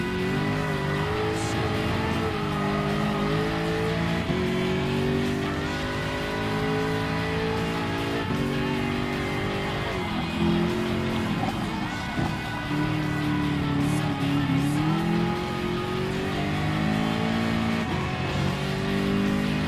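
Race cars in Gran Turismo Sport on a Gr.3 endurance race at Mount Panorama, engines droning and revving steadily near and loud, with shifting pitch as cars accelerate and lift, continuous throughout with no talk.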